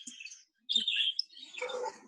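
Several caged birds chirp and tweet nearby in short bursts, with a brief quiet gap before more overlapping calls follow.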